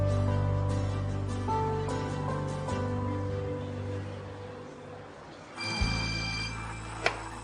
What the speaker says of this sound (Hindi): अरे रुको एक सेकंड, सेलिन का फोन है।